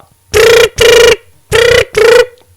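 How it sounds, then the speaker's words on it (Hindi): A mobile phone rings loudly and close by, four bright electronic ring bursts falling in two pairs, with nobody answering. "नहीं उठबै छे बाबू फोन, मोबाइल घंटी दैत अपने चुप भे गेले"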